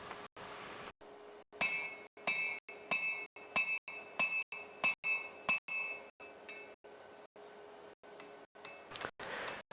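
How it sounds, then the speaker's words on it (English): A blacksmith repeatedly strikes a punch through hot steel on an anvil while making hollow bit tongs, giving a steady series of sharp, ringing metallic clinks, close and loud, about a dozen evenly spaced blows. "Punch through that in order to shear a slug, and use a pritchel hole on the anvil to eject it from the eye."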